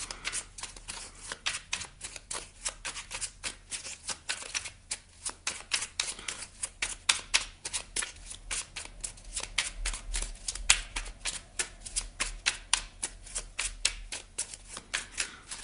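A deck of Merlin oracle cards is shuffled by hand in a quick, steady run of crisp riffling flicks, close and fairly quiet, with no talking.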